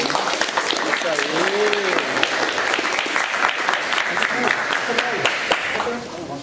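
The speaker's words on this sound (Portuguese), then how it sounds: "Palmas, pessoal. Vamos lá, nas palmas." Audience applause and clapping at a taekwondo social project event, a sustained dense round that tapers off at the end, with voices talking over it.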